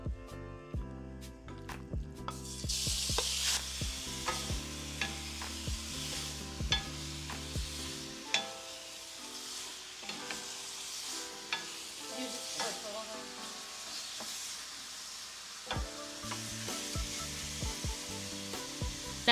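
Beef pieces browning in hot oil in a pan for a Vietnamese bò kho beef stew, with steady loud sizzling and frying plus repeated clinks and scrapes of stirring throughout.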